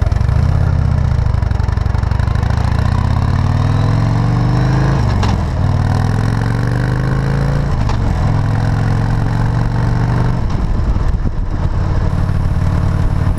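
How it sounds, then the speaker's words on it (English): A Harley-Davidson motorcycle rides along a Florida beach road, its loud, close, deep engine rumble continuous, rising and falling in pitch as it shifts through gears. "ride a Harley along the beach"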